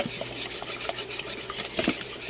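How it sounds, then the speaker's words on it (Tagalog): Leche flan mixture with condensed milk being stirred briskly in a bowl, a utensil scraping and tapping in quick repeated strokes, close and clear. "Halu-haluin lang natin maigi para hindi siya mag-uo-uo."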